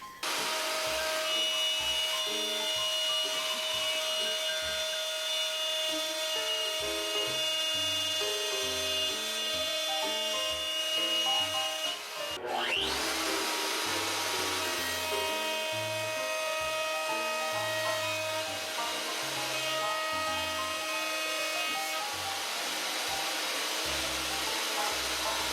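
A router with a 12 mm bit cuts into 18 mm MDF, a sustained high-pitched whine with rough grinding texture, briefly dipping around the middle before continuing steadily.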